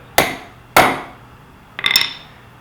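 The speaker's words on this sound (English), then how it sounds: "You don't need a very large hammer, just enough to" Three sharp metallic taps of a small hammer on a center punch set on a rivet, the first two evenly spaced, the third a quick double strike.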